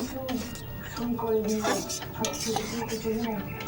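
Besan mixture for motichoor laddu is worked through sugar syrup in a pan, with repeated scraping, clinking utensil knocks and a faint sizzle, while a voice talks underneath.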